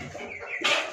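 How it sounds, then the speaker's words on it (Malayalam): Sonali hens, vaccinated laying birds kept for sale, cluck close by in a short burst, a soft low murmur rising into one sharp, louder squawk. "നല്ല കോഴികളാണ്."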